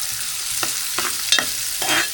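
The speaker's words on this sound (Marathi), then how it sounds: "कांदा लाल होईपर्यंत भाजून घेऊया." Onion sizzles steadily in a hot pan while a spoon scrapes and stirs it in several quick strokes, close up, with no talking.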